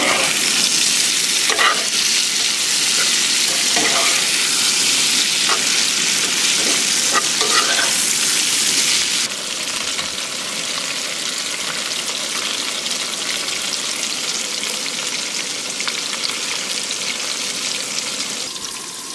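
Fish frying in hot oil over a camp stove, a loud continuous close-up sizzle that eases slightly partway through as the oil settles, with no one talking.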